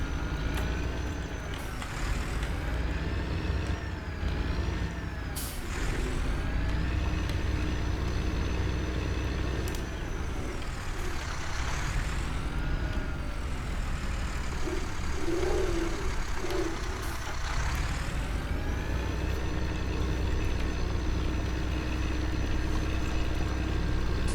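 A John Deere tractor engine in the Farming Simulator 19 video game runs with a steady, low, droning hum, shifting slightly in pitch as it works, with no talk over it.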